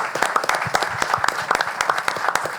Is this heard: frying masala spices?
no